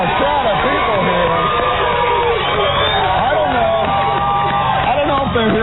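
An excited crowd gathered outdoors in Sacramento for a live morning radio broadcast cheers and shouts, a loud, continuous babble of overlapping voices and whoops close by.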